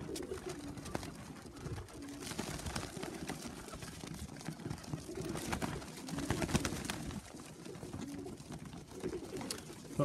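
Pigeons cooing at a loft during evening lamp training, soft repeated low coos layered over faint background noise and occasional fluttering, fairly quiet and close.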